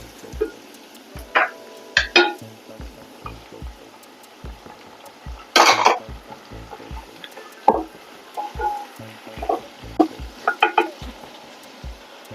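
Onions and tomatoes frying for a dried fish curry, a soft sizzle under scattered spatula scrapes and clinks against the pan, with a regular low thumping running beneath throughout.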